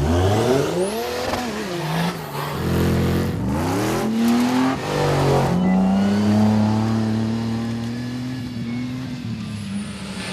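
Four-wheel drive winch trucks launch off the start line at an off-road Winch Truck Challenge west of Rockhampton. Several loud engines rev hard together, their pitch climbing and dropping through gear changes, and the roar stays close and sustained.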